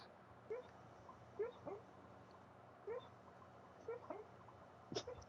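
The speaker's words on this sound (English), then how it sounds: "Can you hear my dog? Barking. Yep. He's sleep barking." A sleeping dog letting out soft, muffled woofs and whimpers, a handful of short yips at irregular intervals, faint and distant under a quiet room hum.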